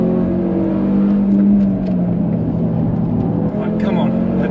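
Porsche Cayman GT3 sports car passing on a race track: a steady engine drone with a rising then falling whine as it goes by, heard against continuous road and cabin noise.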